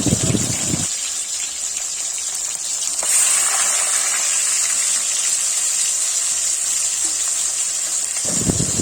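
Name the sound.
fish frying in hot oil in a wok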